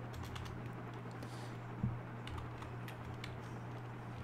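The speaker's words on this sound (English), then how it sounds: "you guys have to type in the reason" Faint keyboard typing at a steady light patter, quiet and close, over a constant low electrical hum, with one small bump partway through.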